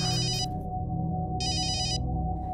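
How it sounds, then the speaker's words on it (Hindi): A telephone rings twice in electronic bursts, each ring a rapid warbling trill, separated by a short pause over a low background hum. "इंस्पेक्टर क्वात्रा का फोन है शिमला से।"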